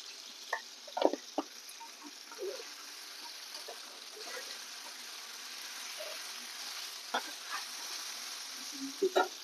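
Fried brinjals get salted and stirred in a pan over a quiet, constant sizzle, with scattered spatula taps and scrapes that come in small clusters near the start and end.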